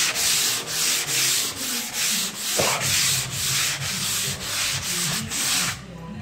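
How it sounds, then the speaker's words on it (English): Light hand sanding of a wall coated with FibreFuse, one base and one top coat, a steady rhythmic scratchy rasp of strokes repeating about twice per second, close and continuous until it stops near the end. "Just gonna give that a light sand here."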